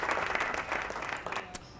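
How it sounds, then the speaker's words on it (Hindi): A studio audience applauds during a Ramadan quiz broadcast, a steady burst of clapping that stays fairly even and then eases off, with a faint voice underneath. "तालियां हो जाए जी इनके लिए।"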